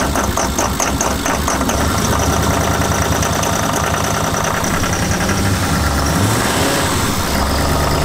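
A car engine on a winter road trip runs loud and close, rumbling steadily with a rough, knocking idle and slight rises in pitch as it is revved, with no voices over it.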